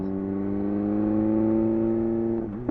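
A 2018 BMW S1000R motorcycle engine runs steadily while warming up, a close, loud, even drone with strong harmonics that dips briefly near the end.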